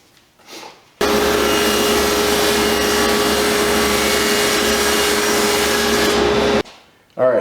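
Saw cutting off the narrow end of a wood board, a loud close continuous power-tool whine with a steady tone that starts abruptly, runs about five seconds and stops, with brief quiet before and after.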